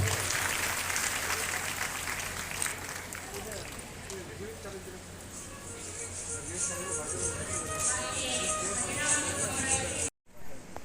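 Sustained loud audience applause at a Haveri district administration and zilla panchayat workshop on guarantee schemes, dense clapping mixed with crowd murmur running steadily for about ten seconds before cutting off near the end.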